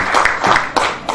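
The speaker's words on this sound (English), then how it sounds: "Please, a round of applause as I welcome Mr. Chinenye Mba." Audience clapping to welcome a speaker at an event, a short burst of applause from a crowd, steady and fairly loud throughout.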